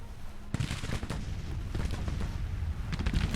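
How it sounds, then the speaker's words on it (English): Dense rapid gunfire crackles with heavy booming artillery blasts mixed in, a continuous battle din of overlapping shots at moderate loudness, in the Civil War strategy video game Grand Tactician. "just the absolute thunderstorm of gunfire we've got coming at them"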